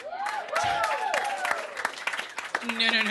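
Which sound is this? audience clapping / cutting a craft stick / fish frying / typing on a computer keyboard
audience clapping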